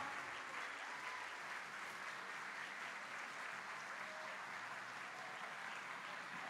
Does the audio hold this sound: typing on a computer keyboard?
no